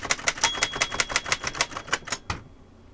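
Rhythmic clacking of keys on a very mechanical, typewriter-like keyboard, a steady run of loud, close strikes that stops abruptly, followed by near silence.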